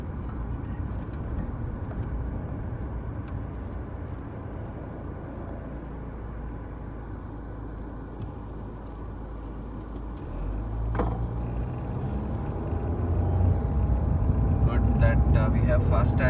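A car drives on a bumpy highway road, a steady low rumble of engine and tire noise from inside the cabin that grows louder and rougher toward the end.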